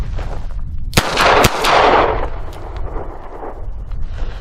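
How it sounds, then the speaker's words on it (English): Two sharp gunshots from a .38 Special snub nose revolver fired in quick succession, loud and close, each followed by a long rolling echo that fades out over several seconds. "I've always been taught to fire 2 rounds center of mass"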